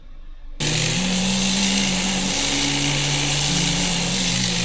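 A rotary tool starts up and runs with a steady high whine while polishing a handmade wedding ring, its pitch shifting slightly as the pressure on the metal changes.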